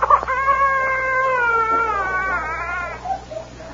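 A cat's drawn-out, wavering crying meow, close and fairly loud, sliding in pitch for about three seconds before tapering into softer little sounds, heard alone without voices.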